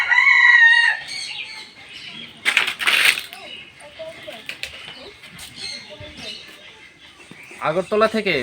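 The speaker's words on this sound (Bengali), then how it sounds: "অনেক পাখি" Chickens cluck and a rooster crows at Sarkar Farm House near Agartala, with other birds mixed in; sharp clucks and calls come and go, close by, while a person talks over them.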